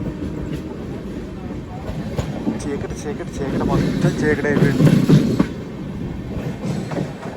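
Satavahana Superfast Intercity Express with LHB coaches runs with a steady rumble and rhythmic wheel clatter from inside, building louder midway, while a person talks over it.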